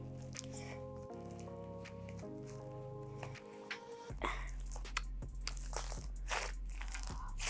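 Crunchy, crackling squishes of coffee-scented slime being pressed and folded, close and fairly loud, with a low hum underneath.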